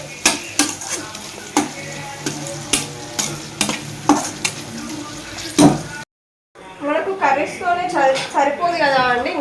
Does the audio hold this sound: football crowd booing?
no